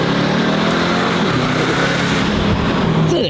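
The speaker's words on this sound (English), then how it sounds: "It kind of screams at you, and it's a combination of the blower and the V8 exhaust note." A Mercedes AMG DTM race car with a Roots blower and V8 exhaust revs hard, a loud continuous screaming engine note that holds steady and rises slightly in pitch, close by with no talk.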